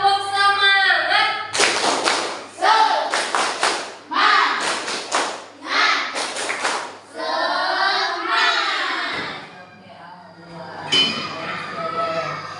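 Classroom group clapping in the Indonesian 'tepuk semangat' style: sharp bursts of rhythmic, patterned claps from several people, broken by chanted voices between the rounds.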